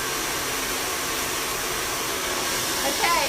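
A hair dryer blows steadily at close range while hair is dried over a brush for root lift, a constant airy roar with a slight shift in tone near the end.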